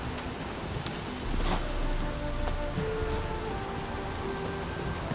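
Steady rain falls in The Witcher 3, a continuous close hiss of drops on surfaces with a few faint tonal sounds in the background.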